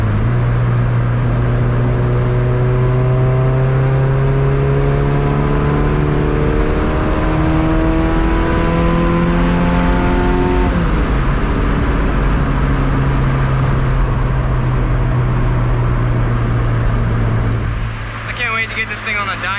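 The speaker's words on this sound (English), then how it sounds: "Hopefully you guys like the sound of the exhaust." A turbocharged Suzuki Vitara D16-engined EF hatch with a full 3-inch exhaust revs through the gears, its rising engine tone dropping at each shift before settling into a steady cruise, with a voice speaking over it at times.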